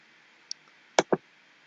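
A computer mouse gives a faint tick followed by two sharp, close clicks in quick succession against near silence.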